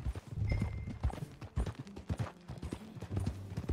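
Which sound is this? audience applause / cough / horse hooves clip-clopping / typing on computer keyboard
horse hooves clip-clopping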